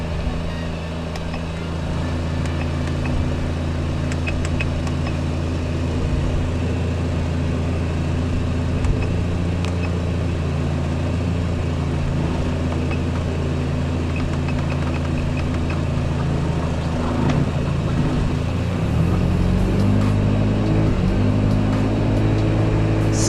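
A Honda D17A car engine with rpm cutting out and a non-working speed sensor runs close by as a steady, continuous drone with a low hum, fairly even throughout.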